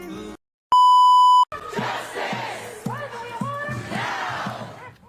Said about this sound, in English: Pro-Palestinian chants ringing out across Stanford University today.